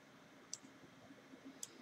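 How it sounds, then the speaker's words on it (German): Two faint, crisp taps on calculator keys, roughly a second apart, with a quiet background and no voices. "das tippen wir jetzt ganz normal in unseren Taschenrechner ein"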